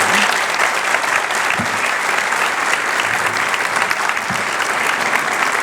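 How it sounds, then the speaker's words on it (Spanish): A conference audience in San Salvador de Jujuy applauds speaker Daniel Balmaceda, with dense, continuous clapping at a loud, even level from start to finish. "pido un gran aplauso para Daniel"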